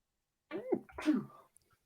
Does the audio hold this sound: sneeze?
yes